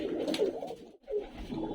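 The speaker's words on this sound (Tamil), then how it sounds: "அது சாதா புறாக்கள்" Ordinary pigeons kept in a cage coo softly in low, throaty, repeated phrases, fairly close and quiet, with a brief pause partway through.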